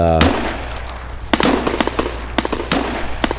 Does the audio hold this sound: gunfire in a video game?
yes